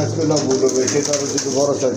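Pigeons from a collection of local and foreign breeds coo close by in soft, repeated throaty bursts, filling a short stretch without pause.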